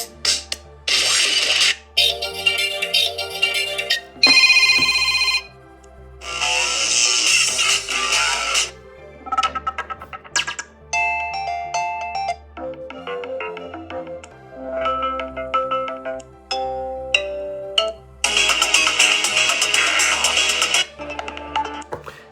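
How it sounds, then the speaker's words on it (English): A Motorola Moto G7 Play phone speaker plays a series of built-in ringtones one after another, bright electronic melodies with short gaps between them, loud and close. "I'm sorry, I actually like these ringtones, so I want to listen to all of them."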